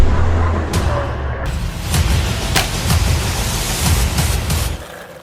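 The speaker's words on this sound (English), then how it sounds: "So I'm going to get the Blackzon Slyder a bit of a drive." A Blackzon Slyder remote control car, a year-old shop demonstrator, drives outdoors with a steady rushing, hissing roar of motor and tires on rough ground, broken by sharp clicks and bumps as it runs close by.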